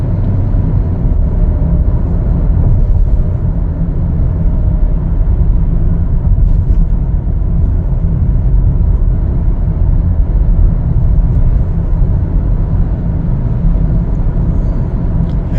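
A 2024 Chevrolet Equinox AWD LS is driven on a test drive, heard from inside as a steady, even rumble of engine and road noise with no talking over it.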